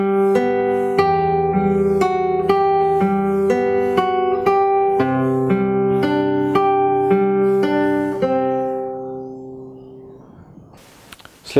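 Fingerstyle guitar plays a phrase, a steady flow of plucked notes over ringing bass strings, close and clear, ending on a long sustained chord that fades out.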